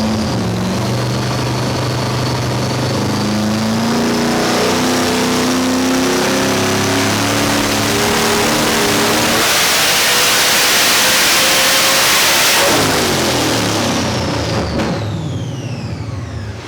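A 5th Gen Chevrolet Camaro fitted with a Magnuson 2650 supercharger revs hard, the engine climbing steadily in pitch to a loud sustained wail with blower whine, then easing off near the end, close and alone.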